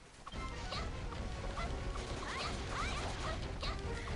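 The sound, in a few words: dog-like sounds of the Berserker enemy in a video game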